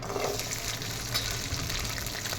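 Garlic and shallots sauté in a pan with a soft, continuous sizzle and faint crackle, moderately quiet and steady for a few seconds.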